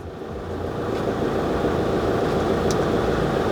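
A Carthago C-Tourer motorhome reverses slowly, its engine a low, steady idling hum close by, rising slightly as it moves, with no voices over it.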